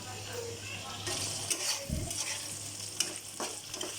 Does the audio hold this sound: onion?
yes